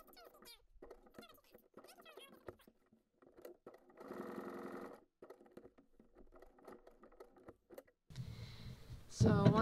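A sewing machine stitching the appliqué on a Halloween Frankenstein monster quilt block at a short stitch length, a fast rhythmic whir in two short runs, the second louder, with someone speaking quietly in between.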